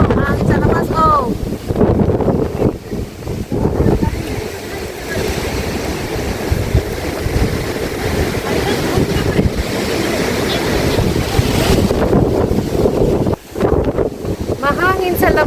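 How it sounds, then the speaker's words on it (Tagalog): Strong wind roars steadily against the microphone outdoors at an observatory, with surf-like rushing underneath and a voice speaking briefly at the start. "Malamig dito. Mahangin sa labas."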